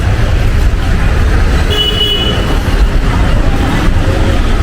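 Mumbai local train at a station, a steady loud rumble of railway noise with a brief faint squeal of wheels midway, continuous throughout with no clear speech.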